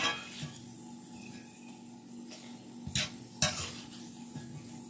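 Tortilla strips frying in very hot grease give a steady close sizzle, with a few sharp pan and utensil clatters near the end.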